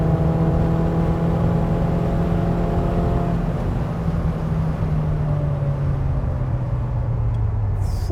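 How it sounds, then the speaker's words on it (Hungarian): Classic Ferrari Dino or Maserati Merak sports car engine revving hard while driving, a loud sustained in-car drone with rising and falling harmonic pitch as it pulls through the gears. "nagyon él ez a motor"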